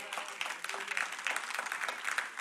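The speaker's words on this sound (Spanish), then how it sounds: "Dele un aplauso fuerte al Señor" A church congregation claps for the Lord during a sermon, a quiet, fairly distant patter of many hands, uneven and steady throughout with no voices over it.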